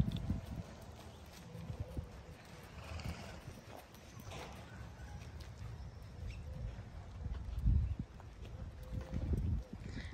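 A horse in a riding lesson walking and trotting, its hooves clip-clopping in soft, uneven thuds close by, with an occasional snort and a voice giving instructions.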